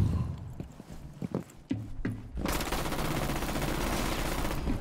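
A whole magazine emptied in Rainbow Six Siege: a few scattered footsteps and clicks, then a sustained, loud burst of rapid automatic gunfire that continues without pause to the end.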